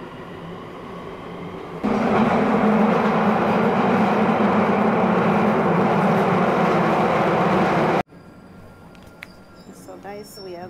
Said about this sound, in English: So, guys, we are in the train.